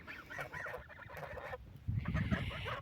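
Geese honk and cackle in short bursts at close range, the calls growing louder and busier toward the end.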